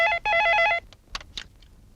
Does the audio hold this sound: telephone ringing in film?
yes